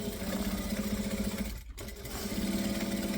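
A sewing machine stitches and back-stitches fabric panels, its steady rapid motor whir briefly stopping midway for the reverse and then resuming at full speed, close and loud.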